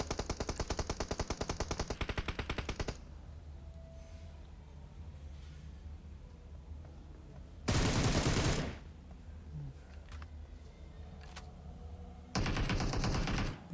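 PUBG gunfire crackles in rapid automatic bursts: a long stream of shots, a quieter gap with faint distant pops, then two more loud sharp bursts, with no speech.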